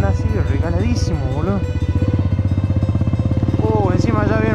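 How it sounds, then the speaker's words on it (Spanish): A motorcycle engine runs steadily and close by under loud, continuous talking from a delivery rider on the street, its low drone staying constant throughout. "Encima ya viene una moto"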